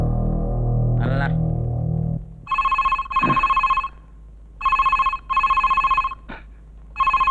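A telephone bell rings in repeated double bursts with short gaps between them, loud and close. A voice and some low hum come just before the ringing starts.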